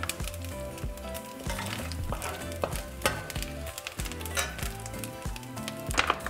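Cooked chorizo sizzling in a hot pan as it is scooped out, with steady frying hiss and scraping under loud, continuous background music.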